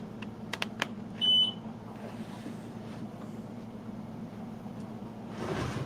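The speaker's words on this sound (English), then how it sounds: "now he's making his printer or his laser beep" A laser engraver gives one short, high, clear electronic beep near the start, set against a steady low hum and a few faint clicks.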